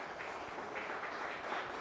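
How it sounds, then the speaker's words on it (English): Distant applause from the audience at an India versus Sri Lanka carrom match, a soft, brief patter of clapping heard from far off. "I don't know the applause was for Nishantha or somebody else."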